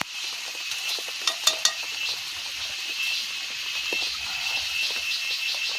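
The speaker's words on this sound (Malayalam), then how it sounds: "നന്നായിട്ട് ഇളക്കി കൊടുക്കാം." Beef pickle masala fries in a pan while being stirred, giving a steady close sizzle with a few sharp scraping clicks early on and no talking.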